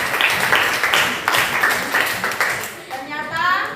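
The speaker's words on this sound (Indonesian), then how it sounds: "Tepuk tangan dulu untuk kita semua." A class of students claps in unison in a classroom, brisk, steady group applause that fades as a voice and some chatter come in near the end.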